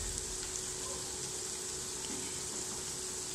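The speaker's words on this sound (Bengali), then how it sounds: "এভাবে আমি পেঁয়াজটা ভাজবো, ভাজতে কিছুক্ষণ সময় লাগবে" Onions frying in a pan for a koi fish curry with bitter gourd and new potatoes: a steady, soft broadband sizzle with a faint hum, continuous and unbroken, with no voices.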